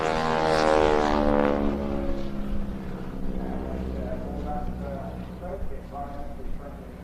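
Two airshow display aircraft fitted with smoke systems make an opposition pass at the Bournemouth Air Festival, their propeller engines droning loudly with a shifting pitch as they cross, while a commentator talks over them.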